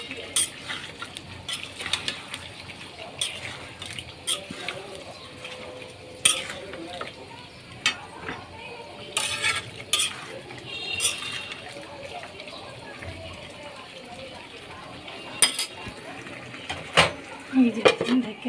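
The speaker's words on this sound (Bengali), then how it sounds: "এখন নাড়াচাড়া দিয়ে দিই।" Fish curry is stirred in a pot during a hilsa fish dish, giving repeated spoon-on-metal scrapes and clinks with some sizzling. Close and moderately loud in an irregular rhythm, with occasional background voices.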